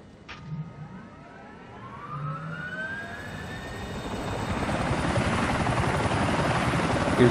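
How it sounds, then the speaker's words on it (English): A helicopter takes off in the video game GTA IV during a water rescue scene, its engine whine and rotor beat rising steadily in pitch and growing louder as it spins up. "Everybody clear around the helicopter?"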